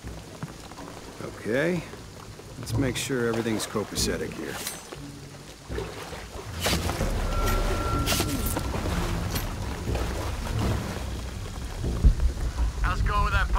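Steady rain pours down with low rolls of thunder in the video game Shadow of the Tomb Raider, set in Cozumel. Someone talks over the storm.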